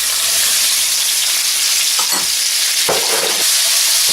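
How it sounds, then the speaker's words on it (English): Onions hit a hot pan and sizzle loudly in a dense, steady hiss, with a couple of brief stirring scrapes near the end. No voices. "Get our onions right in."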